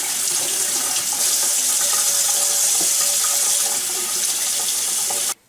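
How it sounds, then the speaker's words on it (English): Raw chicken is rinsed under cold water from a kitchen tap, with a steady, close gush of running water throughout before it cuts off abruptly at the end. "take your chicken and just give it a good rinse under some cold water"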